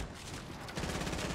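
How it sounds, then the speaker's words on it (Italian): Gunfire in the video game Fortnite, rapid overlapping shots in a dense burst, loud and continuous through the moment, with no talk over it. "Mi spara col cecchino da qualche parte"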